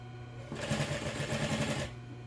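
A sewing machine stitches over a seam while making a fabric multipurpose pencil case, a fast, even mechanical chatter lasting over a second, close and moderately loud above a quiet hum.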